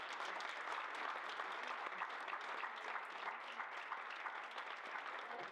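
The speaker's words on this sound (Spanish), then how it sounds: "Despedimos a Teresa con un aplauso." An audience at a poetry reading applauds the guest poet Teresa Gómez with a sustained, even round of clapping from many hands that is heard from a slight distance and holds steady throughout.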